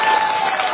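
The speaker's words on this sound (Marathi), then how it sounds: "हात टाळ्या वाजवा." A large audience at a Vanjari community state-level convention claps hands, a brief dense burst of crowd applause.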